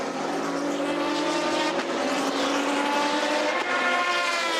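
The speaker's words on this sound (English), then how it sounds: "Pedro Lamy in the 550 Maranello Ferrari, the car that's won the championship in the last 2 seasons" Ferrari 550 Maranello GT race car lapping Monza during an FIA GT race, a loud continuous engine drone with layered harmonics that holds steady for the full stretch, close and unbroken.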